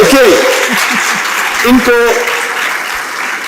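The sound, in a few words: audience applause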